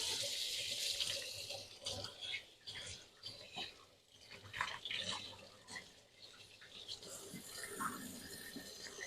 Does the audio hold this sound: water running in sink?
yes